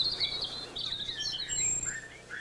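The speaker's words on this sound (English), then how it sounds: "Young robins just out of the nest, begging for more food from their overworked parents." Young robins just out of the nest in an overgrown garden beg for food, giving thin high chirps and squeaky calls in quick irregular bursts over faint background ambience.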